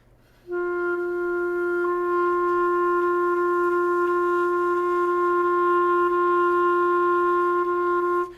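A clarinet holds one long, steady note for several seconds, the too-light tonguing so soft the separate attacks blur together into one continuous tone.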